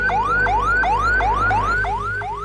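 An ambulance siren wails in a fast, repeating rising sweep, about six cycles, loud and close with no talk over it.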